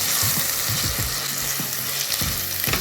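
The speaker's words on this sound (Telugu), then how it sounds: "దీంట్లో నేను ఏదైతే మనం ప్యూరీ కొట్టామో టమాటా ప్యూరీ అది వేసేస్తున్నాను ఇక్కడ" Tomato puree sizzles loudly as it hits hot fish curry in the pan, a steady close frying hiss with scattered low pops and no voices.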